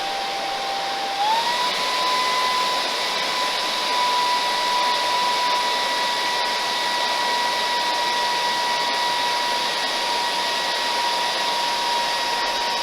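A vacuum cleaner with a nozzle attachment and no rotating brush runs continuously at about 65 decibels, with a steady airy whoosh and a high whine that rises in pitch early, then holds constant.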